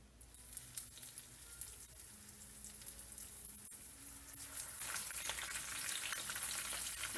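Chili peppers stuffed and wrapped in lumpia wrapper deep fry in hot oil, a soft bubbling crackle that swells into a brighter, busier sizzle partway through, close and with no voices.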